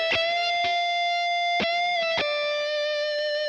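Electric guitar played through a Boss Katana amp: a few sharp picked attacks followed by a long sustained distorted note with rich overtones and reverb, played alone.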